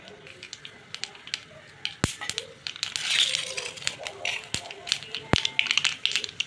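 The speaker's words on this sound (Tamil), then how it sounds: "கடுகு பொரிஞ்சுக்கிட்டு" Mustard seeds spluttering in hot oil for a tomato thokku: close, irregular sharp pops and crackles over a sizzling hiss, with several loud snaps, and a voice talking underneath.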